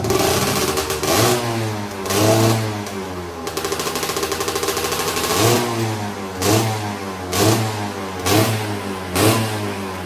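A 150cc two-stroke sportbike engine revs repeatedly, close and loud, with a sustained high-pitched blip followed by a series of sharp rhythmic throttle bursts and no talk.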